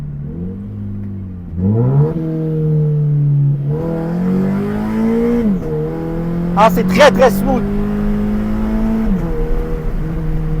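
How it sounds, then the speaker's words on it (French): A Scion FR-S engine revs up and drops through gear changes in a series of rising and falling pulls, with a brief crackling snap off the rev limiter. Someone speaks over it inside the car. "il y a toujours un petit snap qui arrive. C'est toujours un rev limiter qui fait que t'entends vraiment le papillon qui vient taper"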